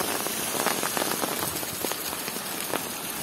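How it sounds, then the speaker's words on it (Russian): A heavy downpour in Temryuk, Krasnodar Krai, during a record flood; dense, loud rain hammers surfaces in a continuous hiss with scattered sharper drops, and no voices are heard. "Этот ливень будет сильнее, чем в Керчи."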